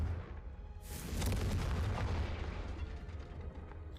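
A Confringo spell in the video game Hogwarts Legacy, played on PS5, erupts in a loud, close rumbling blast that swells after a second and slowly rolls off with crackling debris.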